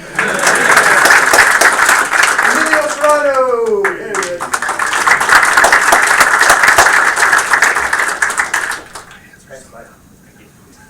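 An audience at a game studio build review applauds awardees with loud, sustained clapping for about nine seconds, a voice briefly speaking over it before the applause cuts off near the end.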